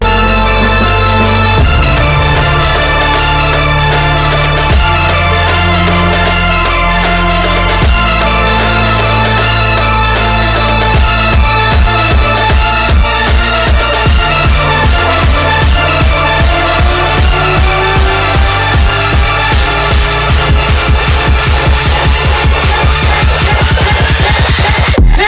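Build section of a hybrid trap song: dense, loud electronic music with sustained synth layers and stepped bass notes, then rhythmic stabs that speed up and tighten into a driving roll toward the end, with a high sweep rising beneath.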